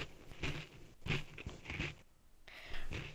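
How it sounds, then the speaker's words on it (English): Someone chewing snap peas close to the microphone, a series of crisp crunching bites in uneven rhythm, about four bursts over a few seconds, with no speech over them. "So what are you crunching munching on?"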